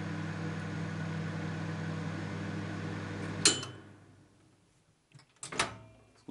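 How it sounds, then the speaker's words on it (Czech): A repaired microwave oven runs with a steady low mechanical hum for a few seconds, then stops with a sharp click, followed by a couple of clunks like a door opening. "si můžeme dovolit mikrovlnku zapojit přímo do zásuvky"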